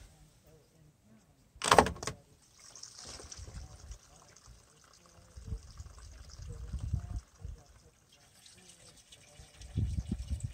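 Water drains fast from an RV gray tank in a small Casita trailer, with a sharp clunk near the start and then a soft rushing trickle under intermittent low talk.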